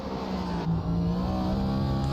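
A video game race car engine revs high and steady, droning near its rev limiter with a slight shift in pitch partway through.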